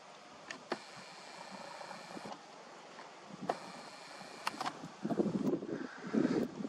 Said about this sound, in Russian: очень ветрено